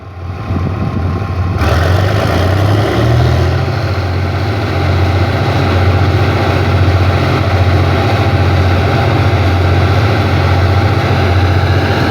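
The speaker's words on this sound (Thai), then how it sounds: "ตอนนี้ก็มาฟังเสียงรถจักรเร่งเครื่องนะครับ" A heavy diesel locomotive engine revs, its low throbbing note rising after a couple of seconds and holding at a strong, sustained drone.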